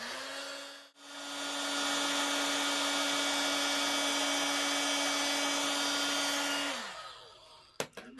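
A heat gun melts granular embossing powder on a card, a loud steady whirring blow that dips briefly near the start, runs evenly for several seconds, then cuts off and winds down, followed by a couple of sharp clicks.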